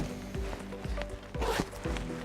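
Zippers on a backpack's sleeping bag compartment being worked open, giving short scratchy rasps between soft thuds of handling at close range, with no talk.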